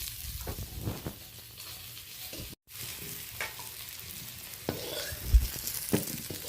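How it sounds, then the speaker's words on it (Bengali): Potatoes fry in oil with salt and turmeric, a soft continuous sizzle under intermittent spoon scrapes and stirring knocks in a home kitchen, with no talk. "আলুটা বেশ ভালো করে ভেজে নিয়েছি অল্প লবণ হলুদ দিয়ে।"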